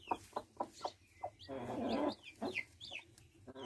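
A hen clucks in short, repeated bursts near newly hatched chicks, with brief high chirps from the chicks and a longer, louder stretch of agitated clucking in the middle, all close by.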